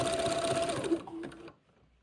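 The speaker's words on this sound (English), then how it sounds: "I've got about 4 feet to zigzag" A sewing machine runs a fast, continuous zigzag stitch on lace insertion for a dress, whirring evenly and close for about a second and a half before stopping abruptly.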